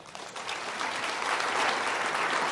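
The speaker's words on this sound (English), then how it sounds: "So please give the panel a round of applause." Sustained applause from a conference audience closing a plenary panel on the European economic crisis, dense and steady, swelling slightly louder toward the end with no talk over it.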